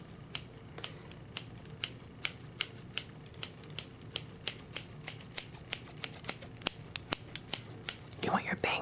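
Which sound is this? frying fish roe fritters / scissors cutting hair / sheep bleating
scissors cutting hair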